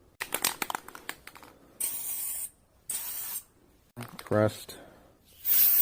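Cavity wax sprayed from an aerosol can in several short hissing bursts, close by, between stretches of talk and handling noise.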